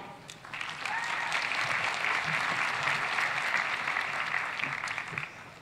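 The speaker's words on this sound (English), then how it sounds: "we welcome your applause for the MA class of 2018" Commencement audience at the 2018 Claremont McKenna College ceremony applauding the graduating class, sustained clapping that swells after a brief quieter start and holds steady, fairly distant, then tapers near the end.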